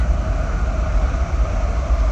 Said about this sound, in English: There's a bullet train just passing by.